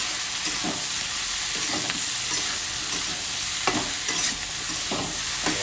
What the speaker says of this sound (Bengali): আমি আবার ভালো করে নাড়িয়ে দিচ্ছি।